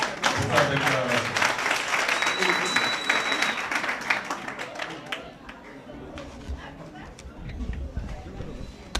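An audience at a Senegalese political rally greets candidate Dr Cheikh Tidiane Dièye with clapping and cheers, loud at first and thinning out after a few seconds, with scattered claps and crowd murmur continuing.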